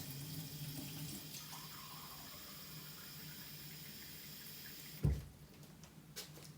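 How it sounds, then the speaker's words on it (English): Warm water runs steadily from a household tap, a soft continuous hiss and splash that ends with a short bump, then quieter sounds. "So I'm going to open the tap water to the warm or really warm position."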